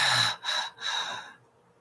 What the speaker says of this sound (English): Big exhale. Big exhale.